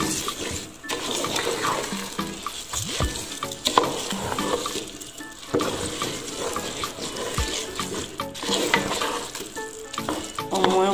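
Rice for a Comorian sardine pilaou frying in a pot as it is stirred, a close, loud sizzle broken by repeated scraping and rustling strokes in an uneven rhythm, no talking.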